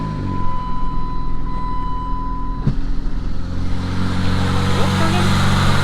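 A PT Cruiser race car hums along with a steady engine drone that builds in the second half, as it picks up speed. A sharp click lands midway, with voices faint beneath.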